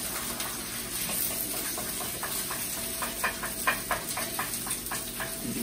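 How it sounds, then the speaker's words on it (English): An egg frying in hot oil in a wok, a steady close sizzle and hiss with crackling pops growing busier as it cooks. "crack our egg straight in on the opposite side of the wok and just let it fry there"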